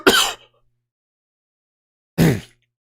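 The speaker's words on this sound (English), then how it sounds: "I did not mean to cough into your ears." Two short, harsh coughs close to the mic, separated by about two seconds of silence.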